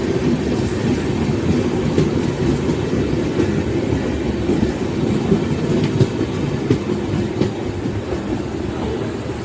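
A train arriving from Bengaluru rolls past at a station with its luggage van: a loud, steady rumble close by, with a rhythmic clickety-clack of wheels over the rail joints.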